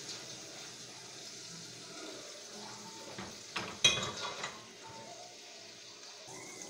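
Shrimp frying in a pan give a steady, close sizzling hiss, broken midway by a brief louder crackle and splash, with no voices.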